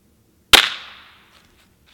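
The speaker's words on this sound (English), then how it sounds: "Now that shot was one of these lightweight gold-plated pellets, and it was going 922 feet per second." A single sharp crack as a lightweight gold-plated .177 pellet from an air gun strikes a cardboard target box at about 922 feet per second, with a short ringing decay afterwards.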